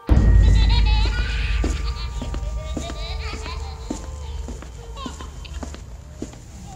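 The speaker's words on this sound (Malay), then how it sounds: "sambil dengan bunyi tapak kaki. Petepap, petepap, petepap." Footsteps in a ghostly story scene: a steady series of sharp, evenly spaced steps on a floor, repeating through most of the stretch over a low rumbling bed and eerie tonal ambience.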